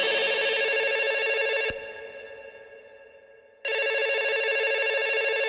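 Electronic telephone answering-machine beep tone in a dance track, a loud sustained tonal signal that cuts off for about two seconds and then resumes just as loud.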